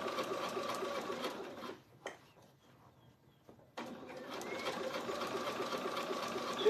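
Sewing machine stitching a side seam on a Besace Lou bag, running steadily at moderate loudness, stopping for about two seconds in the middle, then resuming its continuous whirring stitch.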